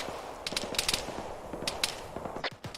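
Gunfire during a patrol in a military video game: a steady scatter of sharp shots cracks out one after another in irregular bursts, some closer and louder, others more distant, with no talk.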